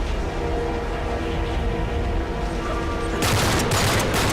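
Gunfire in Uncharted 3 as a scoped sniper rifle takes down an enemy, a loud burst of shots cutting in late over a dense, steady game soundscape.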